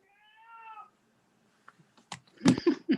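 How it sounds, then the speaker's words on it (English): A cat gives a short drawn-out meow at the start, then brief faint indoor clatter and shuffling noises follow, heard alone without talk. "Someone's got a cat?"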